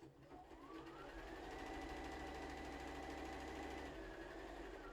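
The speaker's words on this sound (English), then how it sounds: "I'm going to stitch down on that one now" A sewing machine stitches a quilted star table topper, its motor running up to a steady, fast rhythmic hum that holds loud and close after a brief start.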